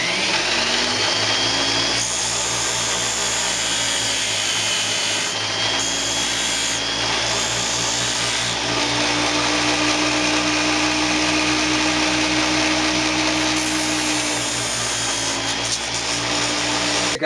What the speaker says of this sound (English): I'm going to use my little Dremel sanding unit here. It's got a belt sander and a circular sander